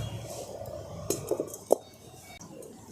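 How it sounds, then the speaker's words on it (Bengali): A kadai being set down on a lit stove: a few light metallic clinks followed by one sharper clank, close and brief, against a soft background hiss. "কড়াটা বসিয়ে দিচ্ছি।"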